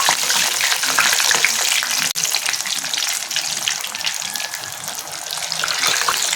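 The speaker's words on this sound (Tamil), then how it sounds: "இப்போ நம்ம எண்ணெயில் பொரித்து எடுத்துக்கலாம்." Coated chicken pieces fry in hot oil over a high flame, a loud continuous sizzle and crackle with a brief click partway through, under faint talk.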